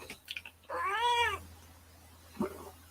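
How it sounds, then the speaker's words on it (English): A female cat lets out one loud, drawn-out meow close by, with a faint low hum underneath and a couple of small clicks before and after. "cat is driving me nuts. You could probably hear her in the background."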